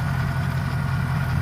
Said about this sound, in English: It's a little bit noisy, but they got it running as the LT4 Supercharger. She sounds good.